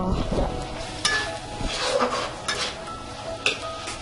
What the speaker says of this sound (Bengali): এখন আমরা এটার উপরে টমেটো ঢেলে দেব, ভালো করে নাড়া দেব।